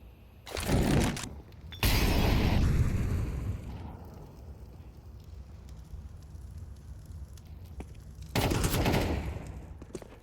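Gunfire in Counter-Strike 2 during a FaZe vs Heroic match at IEM Dallas 2025: loud bursts of rapid shots, a long volley early on and another near the end, with quieter game noise between.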